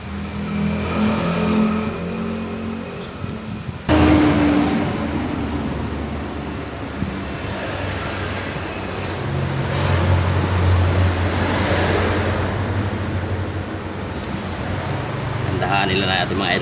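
A car engine revving unevenly during maintenance work on bushings and rubber mounts, a droning rumble that surges and sags with a sudden louder jump partway through, heard close with talk over it.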